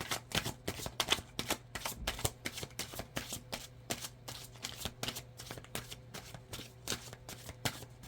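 Tarot cards being shuffled by hand, a quiet, steady run of crisp riffling snaps repeating in quick rhythm, close up and faint, with no talking.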